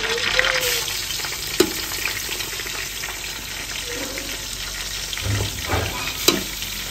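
Garlic and ginger frying in a pan at home, giving a steady close sizzle with a few clinks and stirring scrapes, no talking.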